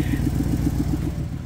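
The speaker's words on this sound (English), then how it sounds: "exhaust leak is sounding better than ever" A vehicle engine with an exhaust leak idles with a low, rhythmic puffing, about seven even pulses per second, close by and steady.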